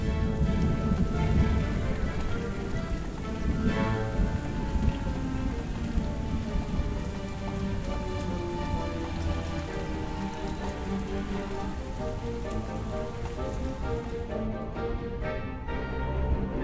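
Heavy rain pounds down steadily outdoors near a wrecking yard, a dense continuous wash of drops with a low rumble of thunder underneath, no voices present.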